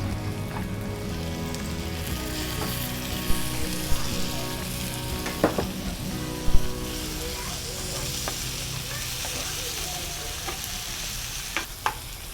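Onion and tomato sautéed in a pan for burung Kapampangan, giving a steady close sizzle and frying hiss, with occasional sharp clinks of a spatula stirring against the pan.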